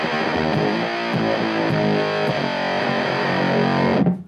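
Electric guitar played straight through a high-watt combo amp with a gritty, distorted tone, loud chords and picked notes ringing steadily for a few seconds before stopping abruptly, with no talk.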